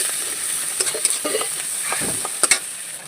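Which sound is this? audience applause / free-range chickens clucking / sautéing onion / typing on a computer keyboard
sautéing onion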